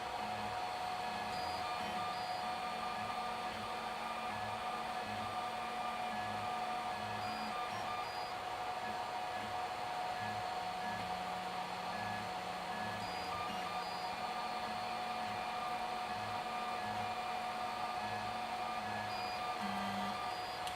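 A 3D printer runs slowly at 40 mm per second while printing square tube end caps, its stepper motors whining in a steady stream of shifting tones over a constant fan hum.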